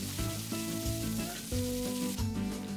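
Sliced onions frying in a pan for Indian-style mushroom rice give a steady, close sizzle throughout, with tonal background music running over it.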